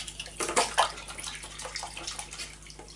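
Part of a handheld Titan paint sprayer dropped into a bucket of water for cleaning: a close splash and sloshing burst, then fainter trickling and swishing water, with no talk.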